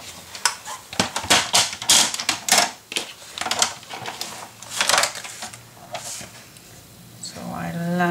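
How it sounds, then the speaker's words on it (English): A scoring tool presses a fold line into paper for a handmade gatefold mini album, giving a series of close, scratchy strokes and taps in an uneven rhythm, with a voice talking over parts of it. "we are going to make a score line at this mark."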